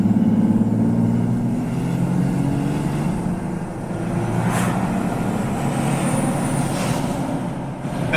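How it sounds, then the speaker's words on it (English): A turbocharged Jeep Gladiator pulls hard under half to three-quarter throttle, a loud steady engine drone with a rising whine and brief whooshes as the turbo spools up, heard from inside the cab. "You definitely hear the turbo kick in, and you can feel it kick in."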